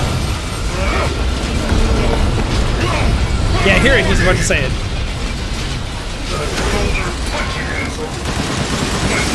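Continuous explosions and gunfire from the Resident Evil Village video game roar loudly throughout, with a voice talking over the din.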